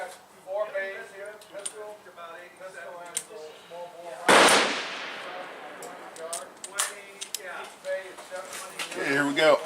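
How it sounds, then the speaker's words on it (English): A single sharp gunshot from a Smith & Wesson 686 Combat Magnum revolver firing 200-grain .38 Special handloads with HS6 powder at a range, loud and close, ringing out midway with a decaying tail, while people talk before and after. "We're going to shoot these out of the 686 Combat Mag."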